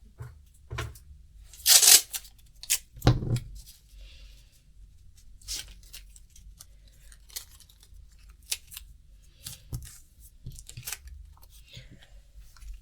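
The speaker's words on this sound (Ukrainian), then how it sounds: "ножиці для паперу" Sharp snipping bursts of paper scissors cutting a paper dress pattern, a few loud close cuts early followed by lighter intermittent snips and rustles.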